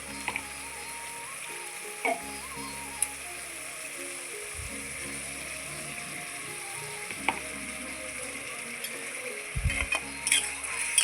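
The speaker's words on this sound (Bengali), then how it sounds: "আবারও ভালোভাবে নেড়ে চেড়ে নিচ্ছি" Spinach and bori curry with ground paste cooking over medium-low heat, a low continuous sizzle under occasional spatula scrapes and clacks against the pan.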